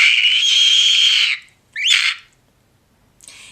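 A human voice imitates a pterodactyl or eagle with an inward scream, a long shrill high-pitched shriek followed by a shorter squawk and a faint final burst, loud and close.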